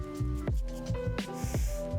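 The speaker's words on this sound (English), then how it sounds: "The last final touch, Reshoevn8r deodorizer spray. A couple sprays of this." A few short, sharp bursts of deodorizer spray, Reshoevn8r brand, are sprayed onto canvas Air Jordan 1 shoes. The hisses land close to the microphone in quick succession.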